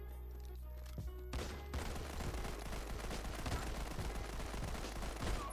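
Gunfire in the Modern Combat 5 battle royale mobile shooter, a dense run of rapid shots over a steady game background hum, no talk.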